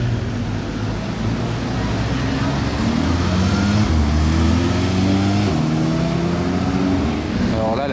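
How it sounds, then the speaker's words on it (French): A Porsche 911 GT3 Touring passes on a busy Monaco street, its engine droning steadily and loudly with a pitch that rises in stepped gear pulls, close and continuous over background traffic. "Là maintenant on a la belle GT3 Touring."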